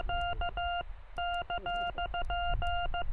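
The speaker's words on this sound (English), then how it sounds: "I'm going to try CW on the Minion SDR" CW Morse code tones received on a Minion SDR radio: clear keyed beeps in irregular dot-dash groups over a low hum of static, steady and close.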